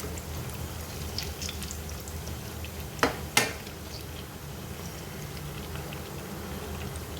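Malpua fritters fry in hot oil with a steady bubbling sizzle, broken by two sharp clattering knocks midway, no voices.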